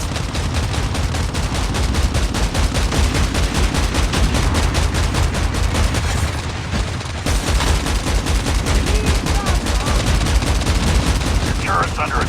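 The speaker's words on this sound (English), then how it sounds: "Your turret's under attack." Base turrets fire in a video game, a dense, continuous stream of rapid gunfire shots that stays loud and steady throughout, with only a brief dip midway.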